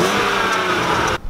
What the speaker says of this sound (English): a cheeky little rev